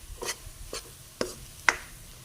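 Besan and egg halwa roasting in a pan while it is stirred, a few scattered scraping strokes of a spoon against the pan at a slow, uneven pace over a soft, faint background.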